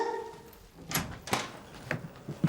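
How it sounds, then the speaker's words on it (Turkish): A door in a home, heard as several separate knocks or bumps spaced out over a couple of seconds against a quiet room. "Ah, kapı."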